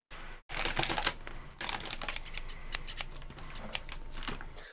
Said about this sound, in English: What's the scissor noise?